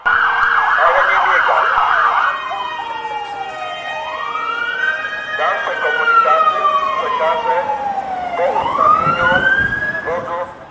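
Fire engine, police and ambulance sirens wail loudly, sweeping up and down in long rising and falling tones that overlap one another.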